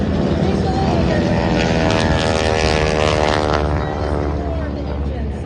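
Droning propeller engines of WWII Japanese fighters and bombers in a Pearl Harbor attack film, a loud sustained harmonic roar that swells and slowly fades, with voices faintly underneath.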